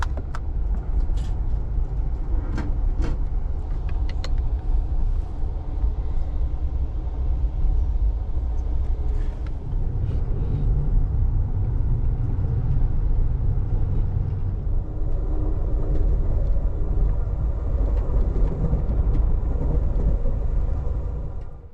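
An Amtrak long-distance train pulls out of Chicago with a continuous low rumble and rolling rattle, plus scattered clicks and knocks, heard steadily from on board.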